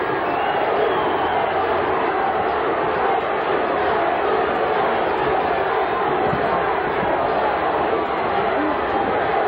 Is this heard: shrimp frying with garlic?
no